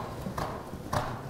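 A horse's hooves strike the ground in a working canter, giving two clear thudding beats close by within a second and a half, with faint speech in the background.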